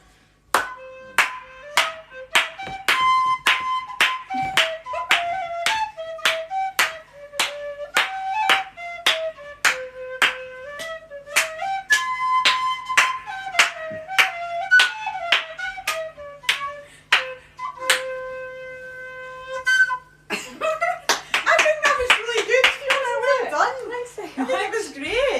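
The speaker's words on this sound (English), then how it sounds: "whistle and clap in the haggis?" At a Burns Supper, a crowd claps in a steady rhythm while a tune is whistled over it as the haggis is carried in, the sharp regular claps continuing throughout before livelier cheering and voices rise near the end.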